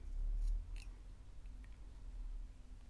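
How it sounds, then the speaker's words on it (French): Scissors snip through knitting yarn on a small premature baby cap, giving a quick, quiet cut in a calm room with no talking. "j'ai retrouvé ma paire de ciseaux, donc je vais tout simplement couper mon fil"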